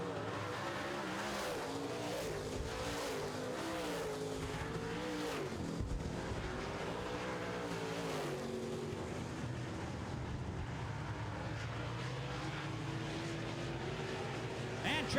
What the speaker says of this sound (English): Not much passing going now as the cars are strung out on the back straightaway and into turn 3